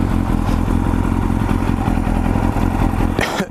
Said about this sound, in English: I'll do a U-turn right here. You know what? This motorcycle does not do good U-turns.